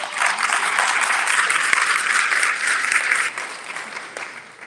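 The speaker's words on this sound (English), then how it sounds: "So let's give a round of applause" An audience at a lunch plenary of a statewide summit on Mexican American studies breaks into a dense, steady round of applause that holds loud for a few seconds, then thins and fades toward the end.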